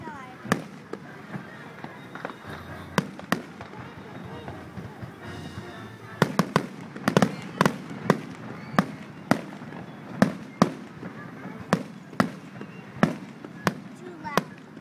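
Fireworks go off at FAU as a string of sharp, booming bursts, irregular at first and then coming quickly one after another, heard from a distance with voices talking in the background.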